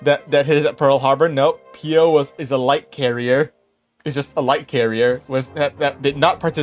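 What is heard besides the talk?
No everyday noises stand out.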